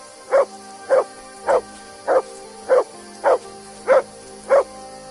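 Mutt the dog in Kingdom Come: Deliverance II barks eight times in a steady, evenly spaced rhythm, each bark loud and close, with no talk in between.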